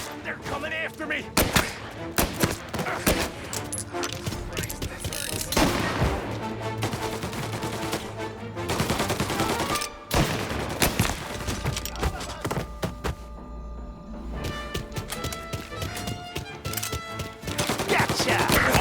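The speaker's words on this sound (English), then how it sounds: "Reports of gunshots." Gunfire in the video game Mafia Definitive Edition: dense volleys of close, loud shots and bursts of rapid fire over game music and effects, with voices speaking in between.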